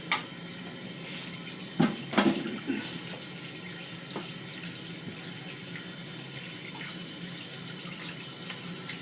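Warm water runs steadily from a bathroom tap, a constant hiss and splash with a few sharper clunks of handling near the start.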